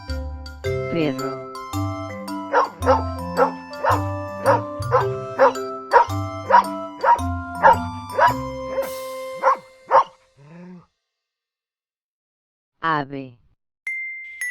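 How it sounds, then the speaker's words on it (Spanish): A dog barks in a quick run of sharp, evenly spaced yaps, close and loud, over a chiming musical backing, then stops with a few scattered tones after. "Perro."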